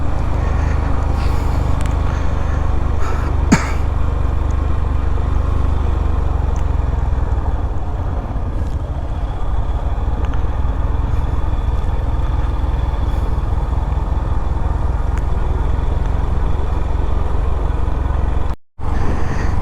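Motorbikes, among them a Yamaha R15, roll downhill on a winding mountain road in the Bandarban hills, giving a steady, continuous engine drone with road noise that holds throughout and cuts out briefly near the end.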